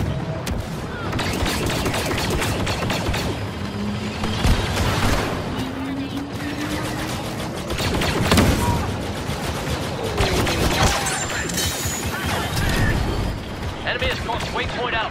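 Dense, continuous battle din from Star Wars Battlefront 2, with heavy overlapping gunfire, blaster shots and ion blasts, loud throughout with voices calling out over the fighting.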